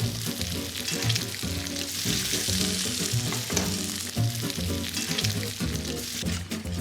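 Bacon frying in a pan, a dense, crackling sizzle that carries on steadily at close range with irregular pops and spatters throughout.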